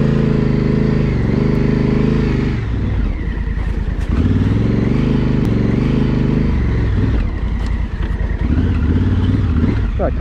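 A motorcycle riding around a private backyard, its engine loud and close throughout, with the throttle rising and falling in repeated revving surges, and wind buffeting.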